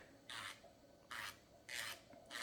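Electric nail grinder filing down an acrylic nail fill, heard in four short, close whirring bursts separated by brief quiet gaps.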